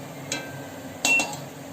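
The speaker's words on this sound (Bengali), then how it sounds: "আর একটা থালা নেব, থালাটাকে তুলব" A metal plate lifted in a kitchen while making goja sweets, two sharp metallic clinks, the second louder and ringing briefly, close against a quiet background.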